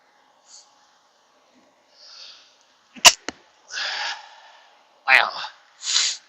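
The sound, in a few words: sneezing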